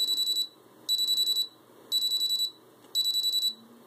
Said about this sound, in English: the alarm is about to go off.